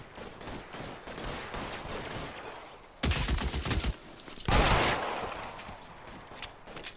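Gunfire in the video game LA Noire during a police shootout: a continuous rattle of shots, punctuated by two louder, sharper bursts partway through, with no talk over it.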